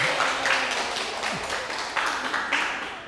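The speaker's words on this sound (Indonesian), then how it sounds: "Boleh tepuk tangan buat kelompok yang terakhir." A physics class applauds the last student group after their presentation, scattered hand claps near and moderately loud, uneven and broken into bursts rather than a full ovation.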